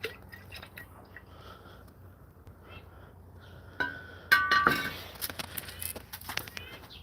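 A chemical solution in a glass container is stirred in an electrochemistry lab, producing faint ambient noise at first, then clinks and scraping glassy taps that grow louder and denser in the second half, close by.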